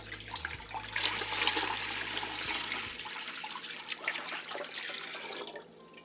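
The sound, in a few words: gallon of water poured in for fabric dyeing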